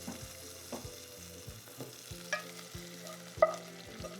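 A quick stir of saffron rice in a pan gives soft scraping strokes over a faint sizzle, close and quiet, with no talk.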